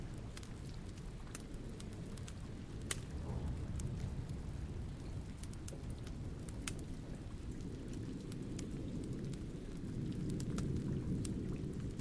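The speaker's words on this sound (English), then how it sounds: "The rain was coming down hard" Heavy rain pours steadily throughout, a dense wash of noise with low rumbling that swells slightly, like distant thunder rolling beneath the downpour.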